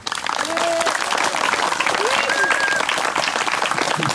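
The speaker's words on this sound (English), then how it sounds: "please give him a round of applause for coming here today" Crowd applause for Alan Jones at a Walk for Water event, dense clapping holding steadily for about four seconds with a few cheers and whistles rising above it.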